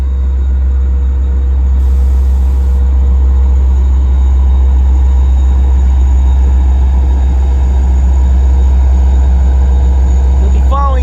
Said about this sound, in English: Here comes train 1060 now as he's making his way